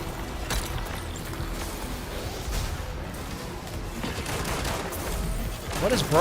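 Destiny 2 gunfire, rapid bursts of shots and impacts in dense, continuous succession, loud and busy, with game sounds layered underneath and a voice talking at times.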